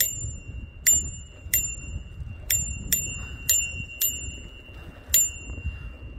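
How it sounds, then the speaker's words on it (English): A new bicycle bell rung about nine times in irregular quick dings, each a bright metallic ring with short decay, close and clear over faint outdoor rumble. "I even got a new bike bell for Christmas."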